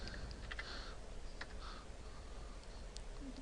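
Quiet, rapid keystrokes on a computer keyboard as a web address is typed into a browser, a short run of soft close clicks over faint room hiss.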